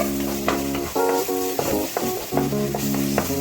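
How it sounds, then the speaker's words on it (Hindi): Ginger garlic paste fries in a pan while being stirred, a soft sizzle under several scraping stir strokes, with a steady hum running underneath. "अब इसे हमें 2 से 3 मिनट तक अच्छे से पकाना है। इसके अंदर डालूंगी अदरक लहसुन का पेस्ट।"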